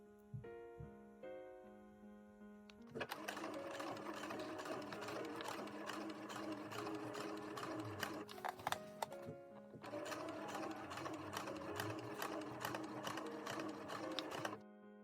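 Sewing machine stitching in the ditch through a basted dress bodice, a dense steady whir of rapid needle strokes after a few quiet handling sounds, with a brief pause midway before running on evenly and close.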